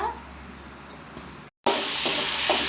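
Mustard seeds tempering in hot mustard oil in a kadai: after a short quiet moment, a loud, bright sizzle bursts in at close range and keeps crackling steadily.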